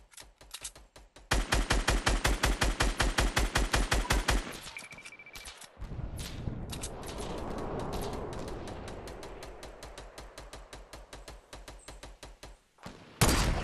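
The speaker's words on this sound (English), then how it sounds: "Just keep shooting." Rapid automatic gunfire in a multiplayer shooter game, close and loud in long rattling bursts, then quieter scattered shots over a rumbling background and a final sharp burst.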